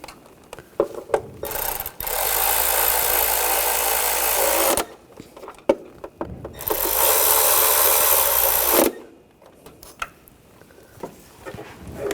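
Power tool running bolts down during a timing belt job on a Honda Pilot V6, heard as two sustained loud mechanical whirring bursts of about three seconds each, with clicks and handling noises between them.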